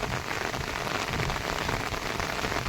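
Heavy rain pours down steadily and loudly on a farm where goats are out in the downpour, a dense continuous hiss of drops with no voices.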